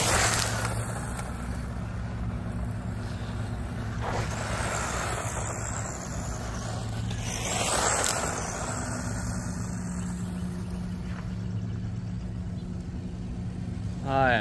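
A Tamiya Fast Attack Vehicle RC buggy tears across dusty dirt in a ball park, its motor droning loudly and steadily up close, swelling twice as the car sweeps past.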